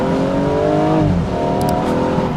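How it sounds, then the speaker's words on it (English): A BMW F20 hatchback's 3-litre six-cylinder turbo engine pulls hard in third gear, a loud, steady rising drone that dips briefly at a shift point before climbing again, heard from inside the car. "The 3-litre 6-pot turbo motor is just epic."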